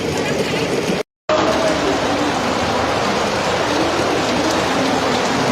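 Heavy rain pours down over Kalyan Dombivli in a dense, steady hiss that stays loud and close throughout, with only a brief break near the start.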